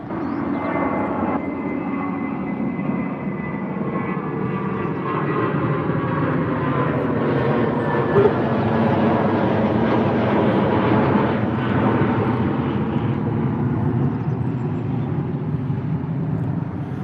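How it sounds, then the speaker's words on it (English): A British Airways Airbus A320 taking off from Heathrow, a loud, steady, broad engine roar that builds slightly and holds for the whole stretch, with no talking. "heading out now is British Airways A320 heading out to Sweden"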